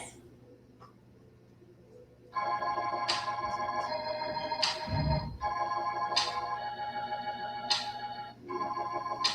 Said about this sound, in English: The most common Hammond organs create sound using metal wheels and electricity.